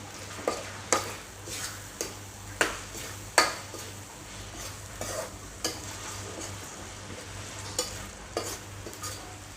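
Vegetarian pork chili paste fries in a pan while a utensil stirs it, scraping and clacking against the pan in irregular strokes over a soft, steady sizzle, close by with no talking.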